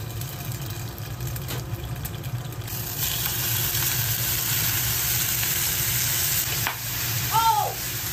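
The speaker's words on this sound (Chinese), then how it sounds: "我今天打算把它煎个蛋" An egg frying with leftover grilled cold noodles in a pan, a steady close sizzle that swells partway through and continues with a brief clink near the end.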